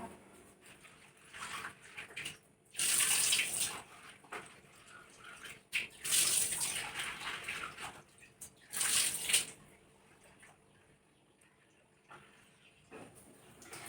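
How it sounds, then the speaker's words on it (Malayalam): Lentils are washed under a weak household tap in a home kitchen: three separate bursts of running, splashing water, each a second or so long, with quiet pauses between them, faint overall and with no talking. "ഇപ്പോൾ നമുക്ക് പരിപ്പ് എടുത്തിട്ടുണ്ട് പരിപ്പൊന്ന് കഴുകിയിട്ട്"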